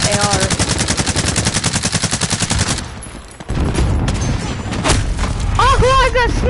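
Rapid automatic M4 rifle fire in Call of Duty, a loud burst of evenly spaced shots followed by scattered gunfire, booms and in-game effects.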